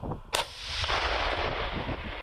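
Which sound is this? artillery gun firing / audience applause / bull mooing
artillery gun firing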